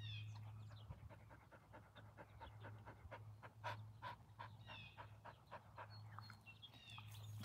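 A tiny dog pants quickly and steadily at close range outdoors in the woods, with a continuous low hum underneath and faint birdsong in the background.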